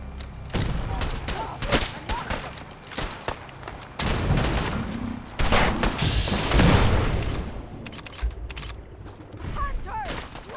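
Gunfire in the video game Fallout 4 during the Far Harbor DLC, with dense bursts of shots, booms and mechanical clatter in rapid, irregular volleys, mixed with shouting voices.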